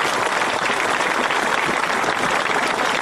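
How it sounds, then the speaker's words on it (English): Dense, loud, sustained audience applause at the Quidditch World Cup final between Australia and the USA, a thick wash of many clapping hands with no break. "So a good big round of applause."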